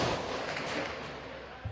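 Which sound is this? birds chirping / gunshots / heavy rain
gunshots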